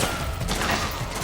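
A brief burst of loud gunfire from the video game Metal Gear Solid 4, with dense overlapping shots filling the short moment.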